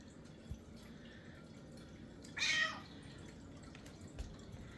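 A pet cat at home gives a single short meow partway through, set against a quiet room with faint background noise and a few soft ticks.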